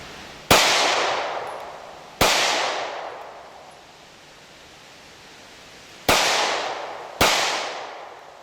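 Four sharp, loud gunshots from a Smith & Wesson M&P Shield .45 ACP pistol firing Federal aluminum-cased ammunition outdoors, spaced irregularly, two pairs each followed by a long fading echo and no speech.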